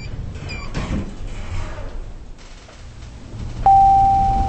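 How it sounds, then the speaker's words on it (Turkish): An elevator door slides shut in the Roblox game, a soft mechanical rumble that fades before a steady electronic tone begins near the end. "Kapı kapanıyor."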